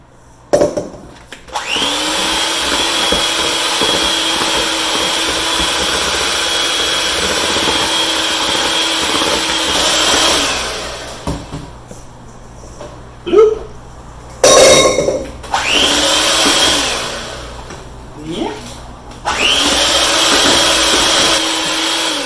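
Electric mixer beating red velvet cake batter with milk, a loud continuous whirring drone that stops and restarts in short bursts after a long run.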